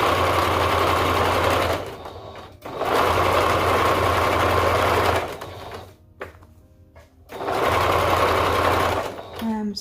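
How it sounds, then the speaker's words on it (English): A sewing machine stitching ruffle shorts, with a back stitch over the starting point: steady rapid mechanical whirring in three long bursts separated by short pauses, close and loud. "I'm just going to back stitch over where I started just to make sure that it stays."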